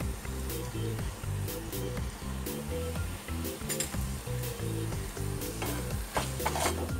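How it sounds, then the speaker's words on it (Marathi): Red chili masala sizzles steadily in hot oil while being stirred for a mung bean and moth bean usal, a continuous close frying hiss with scraping over a low, steady background. "चांगलं फ्राय करून घ्या तेलामध्ये त्याला"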